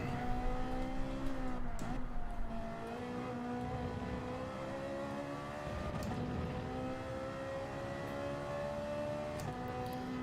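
A Ferrari race car engine in Gran Turismo 7 at Interlagos, a high, strained whine that climbs steadily through the gears with brief dips at shifts, loud and continuous.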